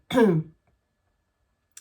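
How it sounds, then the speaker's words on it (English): A single short throat clearing, close and fairly loud, followed by silence. "clearing your throat"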